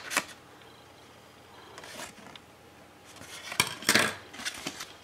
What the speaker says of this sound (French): Alors là je coupe avec les ciseaux